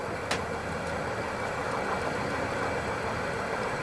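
Wood lathe turning a bug-eaten bowl blank at about 400 RPM, giving off a steady, even mechanical hum that holds level throughout with no voices.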